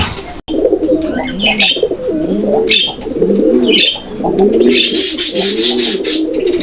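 A pair of local Gola pigeons coo repeatedly and close by, soft rolling throaty calls in a loose rhythm mixed with brief higher chirps from other birds.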